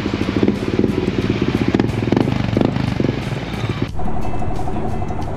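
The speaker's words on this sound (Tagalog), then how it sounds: "Idle sound niya. Pagka binomba natin ng konti." A 2023 Yamaha Nmax V2 scooter fitted with a JVT V3 adjustable exhaust pipe revs up close by in a loud, throbbing burst, then settles into a steady, deep idle rumble, with no voices.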